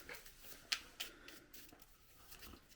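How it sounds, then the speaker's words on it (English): A deck of adventure cards for a tabletop farming and crafting board game is briefly shuffled, giving a soft, quiet papery riffle with a couple of light snaps, close by and without talk. "We're going to give that a quick shuffle."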